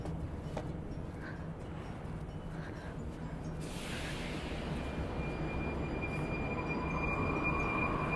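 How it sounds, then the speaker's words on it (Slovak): A Prague metro train pulls out of a concrete station, its steady rolling rumble and electric hum filling the platform throughout, with a faint high whine appearing as it departs. "Tu vidíte, že ten vlak odchádza."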